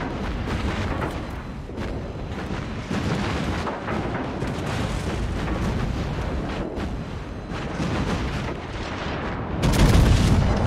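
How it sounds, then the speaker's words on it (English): Continuous heavy booms and explosive crackle fill World of Warships as an enemy destroyer blows up, with a louder blast near the end over dense rumbling gunfire. "Enemy destroyer blown up."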